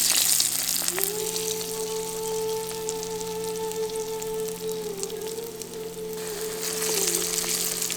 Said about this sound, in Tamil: இப்ப பச்சை பயிறு மாவை உருண்டை பிடிச்சி எண்ணெயில போட்டு பொரிக்க ஆரம்பிச்சிடலாம்